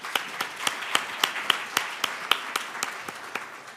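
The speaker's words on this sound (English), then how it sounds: "join me in a round of applause for everyone" At a mayor's State of the City address, a small audience claps in a slow, regular rhythm, a dozen or so distinct sharp claps spaced evenly and fading slightly toward the end, with no voices.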